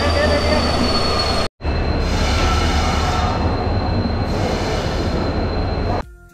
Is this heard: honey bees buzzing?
no